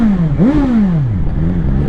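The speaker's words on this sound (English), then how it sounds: "I just like how sporty this engine sounds." An adventure motorcycle engine revs up and down, close and loud, its pitch rising and falling in two sweeps with a sporty, eager note and no talk over it.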